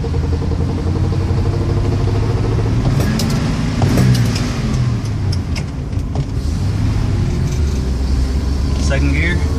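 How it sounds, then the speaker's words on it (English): A 1967 AMC Rebel car engine runs continuously, with a few clunks from the transmission breaking through the drone near the middle. Muffled voices sound underneath. "There's the clunking."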